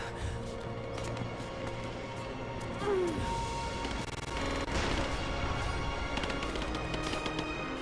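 Gunfire in the Rise of the Tomb Raider video game, repeated loud shots and impacts bursting over dense game sound and music, close and sustained throughout.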